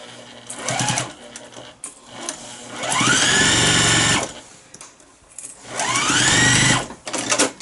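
A sewing machine stitches pleats into a fabric face mask, revving in three loud bursts whose whine rises as each one speeds up, separated by brief pauses.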